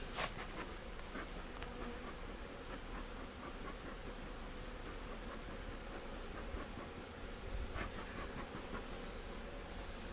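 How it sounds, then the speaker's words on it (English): Honeybees from a package colony buzz steadily around the hive during a queen release check, a dense continuous drone of many insects close by, with a few faint knocks and no talk. "In this one, the bees are all over the syrup"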